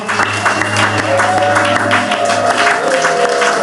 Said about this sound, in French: Acclamez pour le Seigneur des Seigneurs.